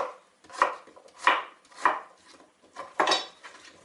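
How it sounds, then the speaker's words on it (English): A knife chops radish into roughly one-inch cubes on a cutting board for quick kimchi, giving five or six crisp, evenly spaced thuds close up with no talking. "I like it a little crunchier, so I cut it into about 1 inch cubes"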